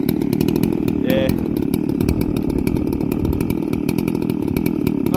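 A Stihl MS660 chainsaw engine idles steadily and loudly close by after its first start with a 56mm pop-up and gasket deleted, a continuous buzzing rumble with a brief higher whine partway through.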